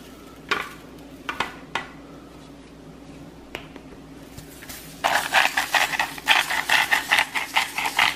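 A tri-tip is flipped on a Weber kettle grill, then sizzles loudly, the crackle rising suddenly after a few sharp taps and clacks and pulsing steadily to the end.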